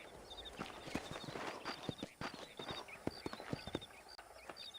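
Horses walk in the Western video game Red Dead Redemption, hooves clip-clopping in an irregular, overlapping rhythm at moderate distance, with faint high tones and ambient sound in the background and no talking.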